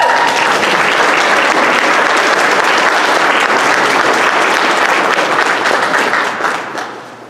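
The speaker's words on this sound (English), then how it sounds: "Why don't we give Amy and her team another big round of applause?" A big round of applause from the audience at a groundbreaking ceremony for an adult social program. Steady, dense clapping holds loud for about six seconds, then thins and fades out at the end.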